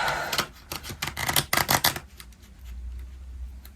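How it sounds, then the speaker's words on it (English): Playing cards are shuffled close by, giving a rapid series of crisp riffling flutters and slaps, then quieter rubbing and handling with a low background hum. "Let's give them a little shuffle."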